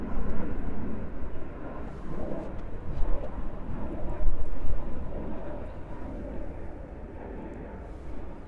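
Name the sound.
Delta Airbus A330-900 airliner at JFK airport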